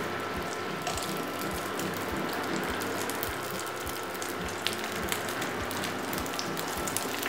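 Crispy rice crust fries in hot oil in a pan over high heat, giving a loud, steady sizzling hiss with a regular low ticking underneath.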